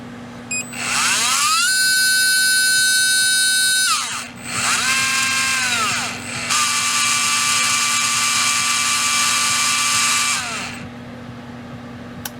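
A REDS VX4 Pro 17.5T brushless RC motor spins up during an automatic test, its high electric whine rising and falling in pitch through several stages, with short dips between runs, loud and close.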